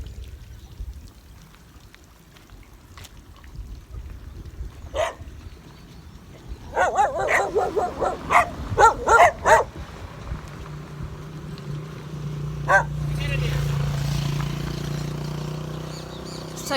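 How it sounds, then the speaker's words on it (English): Dogs barking in rural countryside near rice fields in De Hoop, Mahaica, with a cluster of sharp repeated barks midway that stand out over a low outdoor rumble and occasional distant yips. "So you see guys, those dogs, they want to run me"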